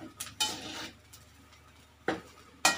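A utensil stirs seafood paella rice with shrimp and mussels in a pan, giving a few separate scraping, clattering strokes at irregular intervals over a quiet background.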